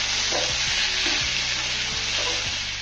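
Boiled potatoes frying in hot oil for mini singara filling, with a steady dense sizzle and several scraping stirs of a spatula at a slow, even pace, close by.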